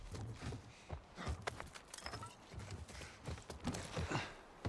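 Horse hooves clip-clopping in The Last of Us Part I video game, a faint run of irregular, sharp hoof knocks at a walking pace, with no talk.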